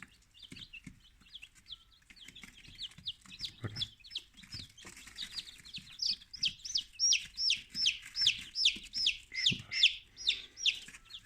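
Rapid, high-pitched peeping from chicks in an incubator, repeating steadily and growing louder and more regular toward the end, with soft thumps underneath.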